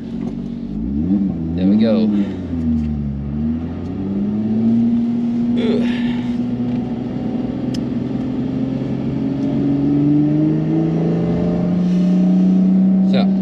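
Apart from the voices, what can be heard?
Lotus Evora S engine revving on the Nürburgring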